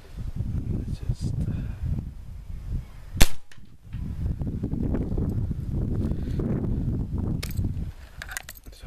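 A Slavia 620 airgun fires a pellet outdoors, giving one sharp crack partway through, set against steady wind noise and rustling from the handheld microphone.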